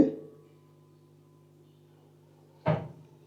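A Samsung 9kg Eco Bubble washing machine starts up: a clunk, a low steady motor hum, then another sharp clunk near the end.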